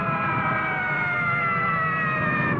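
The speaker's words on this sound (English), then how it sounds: "You hear those sirens? They're for you." Emergency sirens from fire, police and rescue vehicles in a 1959 Mexican Christmas film scene, a steady wailing tone held at moderate level with a low rumble beneath.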